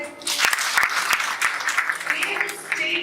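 An audience in a class or talk session breaks into a burst of hand clapping, moderately loud and close, with some voices mixed in as the applause continues.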